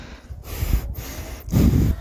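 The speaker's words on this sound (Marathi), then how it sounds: "श्वास घेण्याचा आवाज ऐकू शकत असाल, किती फास्ट इथे ब्रिदिंग घ्यावं लागत आहे" Heavy, fast breathing of a trekker climbing an inclined mountain trail toward the Kedarkantha summit base camp near Juda Ka Talab, close to the microphone, with a few sharp gasping breaths and a strong exhale near the end.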